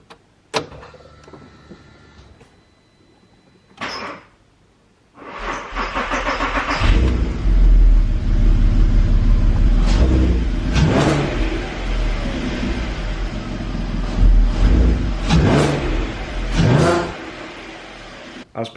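Nissan Skyline R32 engine, fresh from a major service, starts after a short crank and then revs repeatedly, loud and close, several sharp blips rising above a steady idle.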